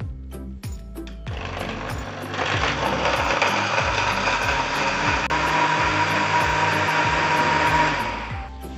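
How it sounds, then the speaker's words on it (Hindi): A blender grinds mango, ice cubes and milk into a shake, a loud close motor roar that rattles at first, then settles into a steady whir for several seconds before cutting off. "बस अब इसे बंद करें और अच्छे से हम इसे ग्राइंड कर लें।"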